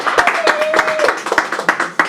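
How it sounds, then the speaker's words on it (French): An audience at a live televised show applauds a singer named Netna, a near burst of scattered clapping with irregular individual claps, and a faint tone running underneath. "applaudissez bien fort Netna"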